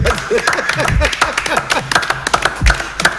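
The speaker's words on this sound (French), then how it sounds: "On acclame pour Fortuné." A small audience claps for Fortuné, a steady burst of close, irregular hand claps that carries on for a few seconds at an even level, with a faint voice underneath.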